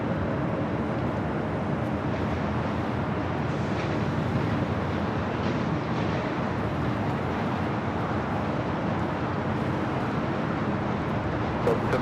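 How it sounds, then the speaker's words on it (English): A Delta Airlines Boeing 757 arriving at LAX produces a steady, distant jet roar, broad and continuous with wind buffeting on the microphone and no voices. "next arrival on the north side is Delta Airlines Flight 501 coming in from Atlanta, Georgia. It's a 757 at 200."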